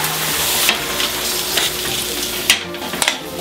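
Shrimp sizzle loudly on a hot plancha after being flambéed with Ricard, a steady dense hiss and crackle broken by a few sharp scrapes and taps as they are turned.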